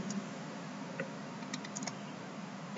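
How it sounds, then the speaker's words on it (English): Short burst of typing on a computer keyboard, a few quick, light key clicks at close range in a quiet room. "let me just type here Zoe"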